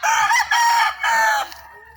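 A rooster crows loudly and close, a single drawn-out call broken into several strained segments.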